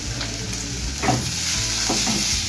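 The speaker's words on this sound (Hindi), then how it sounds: "थोड़ी देर आलू को भून लेंगे।" Boiled, mashed potatoes with salt and spices stirred and roasted in a pan for samosa rolls: a steady sizzle with occasional scraping strokes of a spoon, close and moderately loud.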